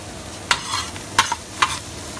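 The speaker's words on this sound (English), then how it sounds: "Mirepoix looking really good. It's starting to sweat." Mirepoix vegetables sweating on a REC TEC grill, a soft close sizzle broken by three sharp scraping stirs spaced apart, no talking.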